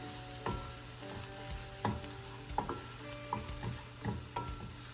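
Chopped mushroom pieces sautéing in a pan with onions, a soft sizzle broken by sharp utensil scrapes and taps against the pan at irregular intervals, fairly quiet and close, no talk.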